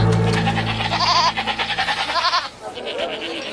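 A dying goat bleats loudly up close in wavering, quavering cries that sag into weaker, broken calls toward the end.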